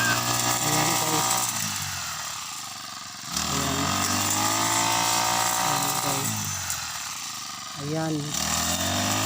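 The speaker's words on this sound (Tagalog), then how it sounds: "Talagang grass cutter ang kailangan gawin para maalis yung mga damo-damo." A motorised grass cutter clears dry weeds in a rice field. It drones and whines continuously, dipping briefly a few times as the load changes, while someone talks over it.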